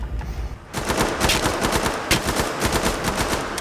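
Sustained automatic assault rifle fire in Killing Floor 2, a dense rapid burst of close, loud shots starting after a short quiet lead-in and continuing steadily.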